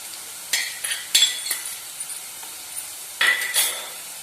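Ginger, garlic and curry leaves sautéed in a pan for bread masala, with a few spatula scrapes and light sizzling bursts spaced apart, close and alone.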